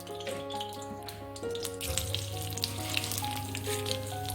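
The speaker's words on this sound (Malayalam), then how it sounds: "1 സ്പൂൺ നെയ്യ് ഒഴിച്ചു. നെയ്യിലാണ് കടുക് വറുക്കണേ." Mustard seeds fry in a spoonful of hot ghee for a rasam tempering, a steady close sizzle that swells louder and crackles partway through, with a little water-like splashing.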